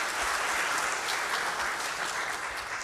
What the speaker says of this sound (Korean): 여러분 박수로 좀 맞아주시기 바랍니다.